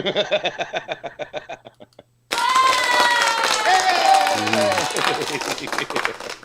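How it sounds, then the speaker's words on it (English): A canned crowd-noise sound effect fires at the press of a button in a live sports talk show, giving a sudden burst of cheering, clapping and laughter that cuts in after a stretch of talk and stays loud to the end. "We should pump crowd noise in."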